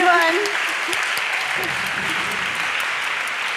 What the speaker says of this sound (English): I think that's worth a big applause.